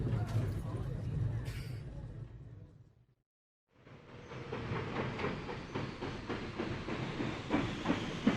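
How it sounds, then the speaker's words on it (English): A commuter train bound for Grand Central Station rumbles and hisses with faint clickety-clack, cutting out briefly to near silence before the rolling noise returns loud and steady, with speech over it. "It's now 7:15 and I just caught the train, which takes me to Grand Central Station."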